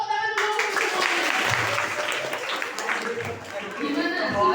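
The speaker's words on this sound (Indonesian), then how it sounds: "Beri tepuk tangan dulu untuk semuanya." Audience applause at a writing motivation talk, a short burst of clapping from a group mixed with chatter, following a brief voice at the start.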